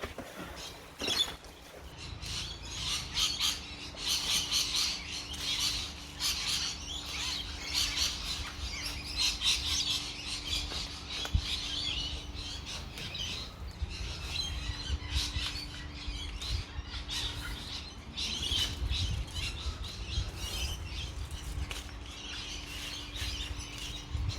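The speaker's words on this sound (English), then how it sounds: "Those birds are noisy." Birds squawk and chirp busily and continuously in a blueberry field, a noisy chattering flock over a steady low background hum.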